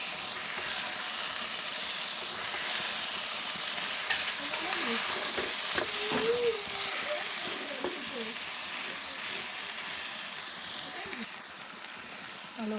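Fern stems (misilis) stirred and crushed in a hot pan, a steady sizzle of frying under scraping and pressing sounds from the spoon, close and continuous, with a brief dip near the end.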